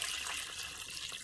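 Water poured into a pressure cooker pot over beef for a Vietnamese-style stew, a steady, hissing stream heard briefly and fairly close.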